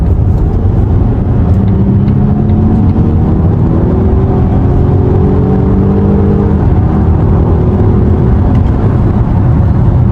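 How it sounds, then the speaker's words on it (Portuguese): A 407 hp Volvo XC60 accelerates at full throttle from 60 km/h, heard from inside the cabin: a loud, steady engine drone with rising tones that drop back briefly at a gear change, then climb again, with no talking. "vou fazer uma retomada acelerando tudo"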